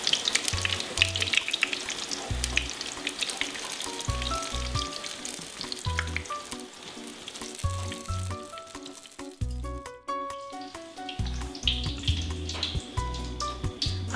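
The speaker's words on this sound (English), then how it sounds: "So I'm almost done frying this." Steady crackling sizzle of eggplant frying in hot oil, close by, with a pulsing low thump and faint kitchen clatter underneath.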